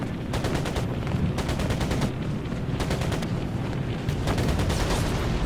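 Anti-aircraft guns fire in the Air Conflicts: Pacific Carriers video game: loud rapid bursts of cannon fire in several repeating volleys over a constant heavy rumble of engines and explosions.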